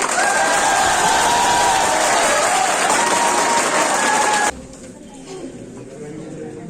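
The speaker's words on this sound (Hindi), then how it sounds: "तो फिर तालियां जोर जोर से बजाओ" A crowd at a welcome event for a coaching-centre teacher claps loudly, a dense roar of applause with some cheering that cuts off abruptly partway through, leaving quieter crowd murmur and indistinct voices.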